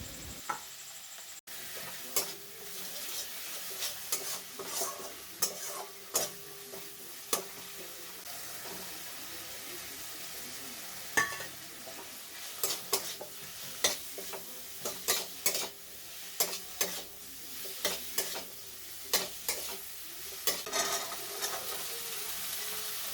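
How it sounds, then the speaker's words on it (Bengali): Chopped tomatoes, ginger and salt stirred in a pan with a spoon, giving a steady run of sharp scraping clicks over a soft, constant sizzle throughout. "এখানে যে টমেটো কুচিগুলো করে রেখেছিলাম কুচিগুলো দিয়ে দেব তার সঙ্গে আদা যেটা কুড়েছিলাম সেটাও দিয়ে দিচ্ছি তো এইভাবেই সবগুলো মিশিয়ে নাড়াচাড়া করে নেব"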